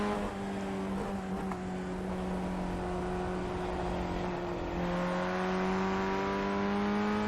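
An open-wheel race car in the iRacing sim holds a steady high engine whine through a corner, a sustained buzzing drone with slight pitch shifts as it slides out toward the gravel.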